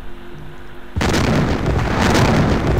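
Naval guns open fire in a computer-generated Battle of Jutland game: after a low engine hum, a sudden loud blast erupts and rolls on into a sustained heavy rumble.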